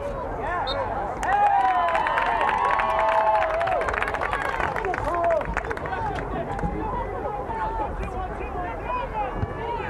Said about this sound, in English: Fans for Brookline quite animated this afternoon, cheering for their team.